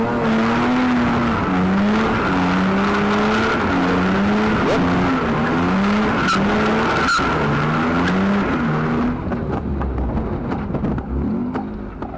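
A Metro 6R4 replica's engine revs hard and continuously, its pitch sweeping up and down as the car drifts, with brief tire squeal; loud and close throughout.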